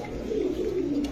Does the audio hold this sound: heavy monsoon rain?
no